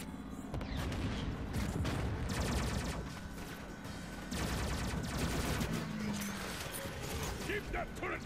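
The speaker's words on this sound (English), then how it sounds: "Keep that turret firing." A turret fires rapid bursts in the Transformers Cybertron Adventures video game, with dense mechanical rattling volleys, a short pause, then renewed firing mixed with game music and effects.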